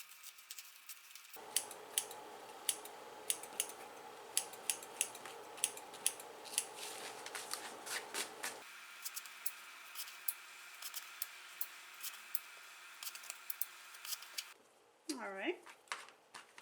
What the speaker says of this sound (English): trim the stitching off the back, the little loose ends